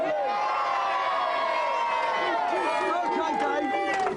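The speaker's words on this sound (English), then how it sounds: "Go on, give him a cheer." Studio audience at a TV game show, cheering, whooping and shouting loudly with a dense crowd roar that holds steady throughout, with excited voices layered on top.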